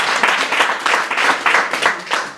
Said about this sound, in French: Dites merci au moins, applaudissez, c'est important.